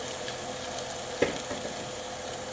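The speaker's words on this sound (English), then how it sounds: "You want that nice sizzle." Steady soft sizzling from andouille sausage frying in a pot, a continuous low hiss with one brief clink partway through.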